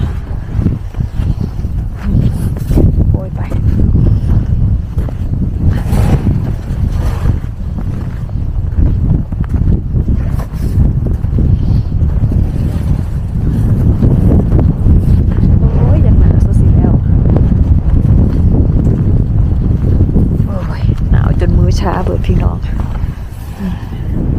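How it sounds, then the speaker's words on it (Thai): Cold outdoor wind buffets the microphone in heavy rumbling gusts for the whole stretch, loud and continuous, with people talking faintly underneath at times. "ลมหนาวมาก"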